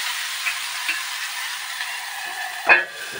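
Food frying slowly in a pan over a low gas flame, a soft, even sizzle throughout with one brief metallic clink near the end.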